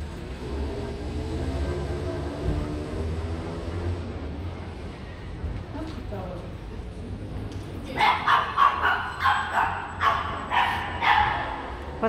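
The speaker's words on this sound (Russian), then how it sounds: "Собачки." Dogs bark on a street in Padua, Italy, with a run of about eight sharp barks in the second half, following a stretch of steady street noise.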